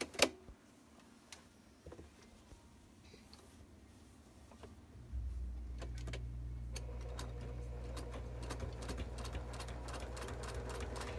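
A sewing machine stitching off the corner of a bulky seam, with a few quiet clicks and handling noises before the motor starts up and runs with a steady, close whirring hum.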